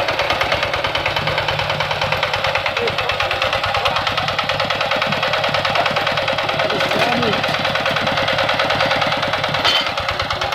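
A loader engine runs steadily in a rice field with a loud, rhythmic chugging and knocking throb, close by and continuous throughout.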